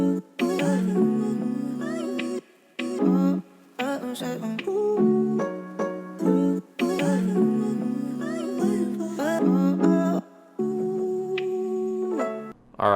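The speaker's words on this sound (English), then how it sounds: "this is what my first chop sounds like" Chopped, pitched soul music sample laid out for a trapsoul beat in FL Studio, rhythmic melodic fragments cut apart by abrupt short gaps, loud and continuous for several bars with no talking.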